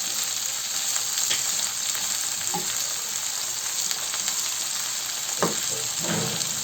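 Onion and peppers frying together in a pan, a loud steady sizzle and hiss with occasional spoon knocks and scrapes toward the end, nearby and without talk.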